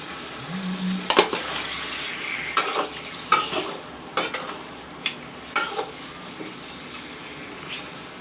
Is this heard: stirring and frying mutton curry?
yes